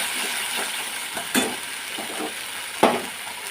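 Tomato paste and spices sizzle in hot oil for a fish curry, a steady close frying hiss broken by two sharper scrapes and clinks of a spoon stirring against the pan.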